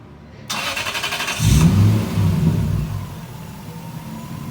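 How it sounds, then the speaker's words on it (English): A 1998–2005 Lexus GS300 cranks with a rapid starter whir, then catches and fires into a loud engine roar that settles to a steady idle; no talking. "Turn on the car."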